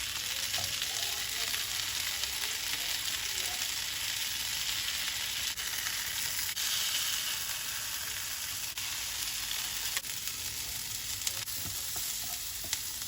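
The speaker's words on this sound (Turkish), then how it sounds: "Biberleri 2-3 dakika şöyle kızartalım tavada." Eggplants and peppers fry in about a cup of vegetable oil in a pan, giving a constant, soft crackling sizzle with an occasional stir and no voices.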